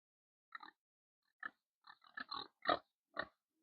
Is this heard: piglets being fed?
yes